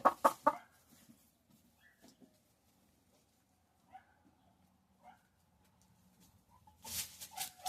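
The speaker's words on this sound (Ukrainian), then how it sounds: "Оце красива курочка. Така красива." Leghorn hens clucking in a poultry setting, with several short clucks and squawks scattered through the clip, louder bursts at the start and end and quieter calls between.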